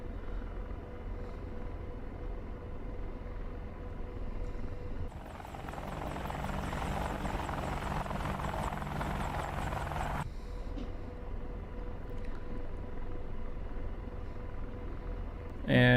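An Apache AH-64 helicopter in a flight game spools up for a rolling takeoff, its rotor and engine building into a dense, steady thrum that swells in the middle stretch and then eases back to a lower drone.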